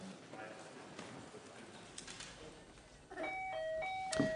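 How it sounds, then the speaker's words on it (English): A parliamentary lobby division bell rings out after a voice vote in a legislative chamber, a clear electronic tone starting near the end and heard over faint room murmur and speech. "Okay, that's the lobby bell going."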